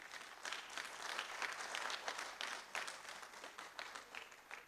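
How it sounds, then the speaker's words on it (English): An audience applauds at an institute event, a steady wash of many hands clapping that holds throughout without letting up. "ladies and gentlemen, a big round of applause to Captain Gaurav and his team"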